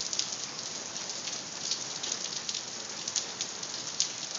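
Hail falls during a storm, striking a flower bed, a truck and the street with a dense, steady hiss and occasional sharper ticks from individual stones, continuous and fairly close with no voices.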